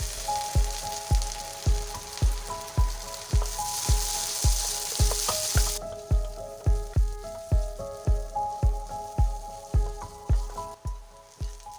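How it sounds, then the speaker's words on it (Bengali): Chopped potatoes frying in hot mustard oil, a loud continuous crackling sizzle punctuated by regular rhythmic knocks of a spatula, close up, with the sizzle thinning partway through and no talking. "তেল ভালোভাবে গরম হয়ে গেলে আমি আলু কুচি করাগুলো ভালো করে ভেজে নিলাম"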